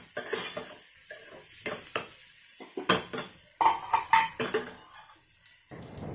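Moong sprouts are tipped into a pan of pinkened onions and stir-fried, giving a series of close clattering scrapes and knocks of a utensil against the pan over a soft sizzle, with no talking.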